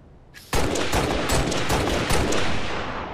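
Halo video game gunfire erupts after a short quiet start, a loud, dense, rapid stream of shots that carries on unbroken for nearly three seconds.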